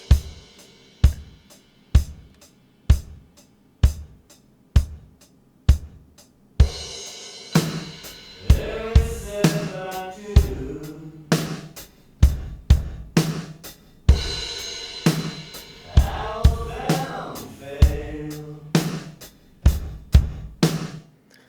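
Drums with reverb: a steady kick and hi-hat pattern opens, then fuller kit hits join, with reverb tails and faint tonal bleed behind them.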